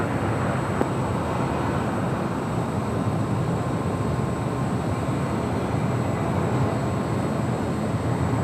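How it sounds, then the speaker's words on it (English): An Emirates Airbus A380 airliner arriving at LAX gives a steady, dense engine roar with a broad rushing noise and a faint high whine, continuous and fairly loud throughout with no voices. "Our next A380 Emirates."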